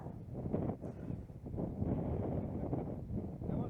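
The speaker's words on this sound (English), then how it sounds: "This wind is something else, as you can probably hear from the footage. It's blowing a gale." Strong gale-force wind buffets the microphone on an outdoor disc golf course, producing low rumbling gusts that rise and fall continuously throughout.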